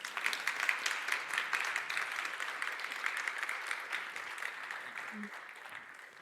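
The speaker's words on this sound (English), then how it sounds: "I think he deserves another round of applause." A lecture audience gives Professor Hedges another round of applause at the close of a special lecture event, dense clapping from many people that starts strong and slowly tapers off, with a brief faint voice near the end.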